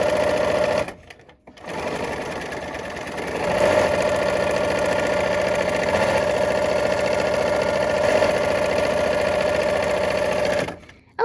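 A sewing machine stitches quilt blocks in a steady, continuous whir that runs close and loud for most of the stretch. It pauses briefly near the start and again at the very end.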